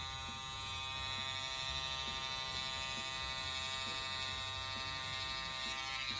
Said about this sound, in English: You can just take this trimmer and trim even inside of their ears.